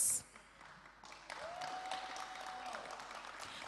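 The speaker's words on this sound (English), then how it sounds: "Thank you very much for the persons who are clapping" A debate audience breaks into scattered applause, a thin patter of claps from a small crowd in a hall, rising after a quiet pause and continuing steadily at moderate distance.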